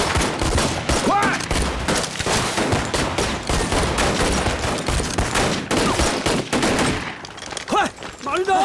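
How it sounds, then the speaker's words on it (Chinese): Rapid bursts of gunfire crackle through an army camp, dense volleys firing almost continuously and loud, with shouted voices and men's speech breaking through near the end. "军营为什么有枪声？"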